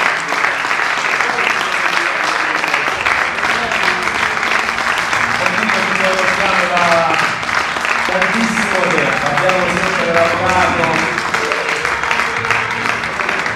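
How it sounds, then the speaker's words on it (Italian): Assembly members at an elective meeting of the Basilicata Pro Loco union applaud an election by acclamation, producing steady, loud sustained applause from a large room, with voices talking beneath it. "con un bel applauso"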